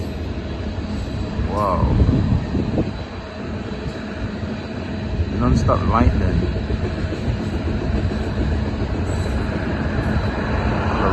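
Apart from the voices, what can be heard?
long train rolling past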